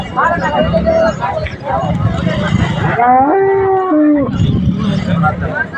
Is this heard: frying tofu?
no